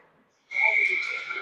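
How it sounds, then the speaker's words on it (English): A referee's whistle at a junior hockey game, a single loud, sustained shrill blast that starts abruptly after a quiet moment and holds steady to the end. "And we get a whistle."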